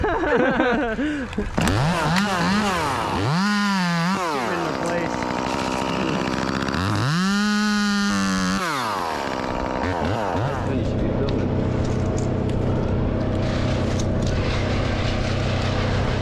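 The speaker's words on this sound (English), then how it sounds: "How do you like that chipper, Raul?" A loud wood chipper engine revs and roars during sycamore tree removal, rising and falling in pitch twice before settling into a steady grinding drone, with voices talking over it.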